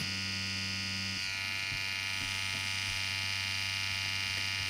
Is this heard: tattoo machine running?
yes